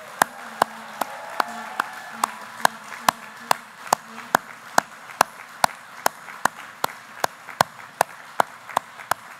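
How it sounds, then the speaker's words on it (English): Sharp, evenly spaced claps ring out about twice a second in steady unison, like rhythmic applause from an audience at a large opening ceremony, over a faint background hum. "And a very special thank you and applause for Jacqueline."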